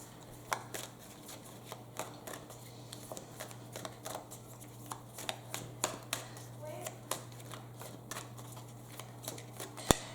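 Enchanted Map Oracle cards shuffled by hand during a tarot reading, with a run of soft, irregular riffling snaps and slaps spread over several seconds, close and fairly quiet against a steady low hum.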